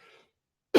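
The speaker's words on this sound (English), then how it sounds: "Sorry, I'm coughing a lot." One sharp, close cough bursts out at the very end, after a faint murmur and a stretch of near silence.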